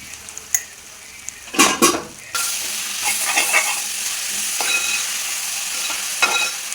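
Onions are fried in a pan while a utensil stirs them, with a few sharp scraping strokes early on. A steady, close sizzle follows. No one speaks.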